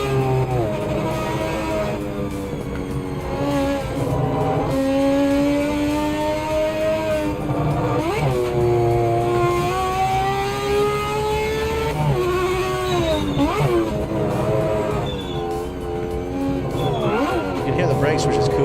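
A race car in the racing video game Project Motor Racing revs loud and close, its engine note climbing and dropping through gear changes in repeated sweeps, with brief scrubbing squeals as it slows.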